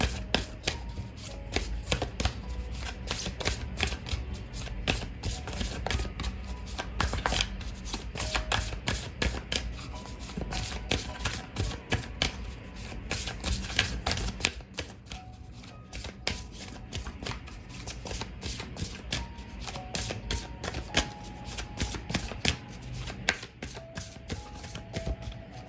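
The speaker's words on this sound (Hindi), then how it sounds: "तो मैं करती हूँ कार्ड शफल।" Tarot cards are shuffled continuously at close range, giving a dense, rapid run of crisp riffling and flicking slaps with brief pauses, with no talking.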